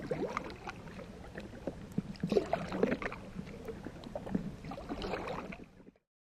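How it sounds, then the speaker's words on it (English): A kayak paddles along the Connecticut River on a summer day: steady, soft splashes of blade strokes and water lapping against the hull, with light wind noise. The sound fades out at the end. "As I paddle mile after mile"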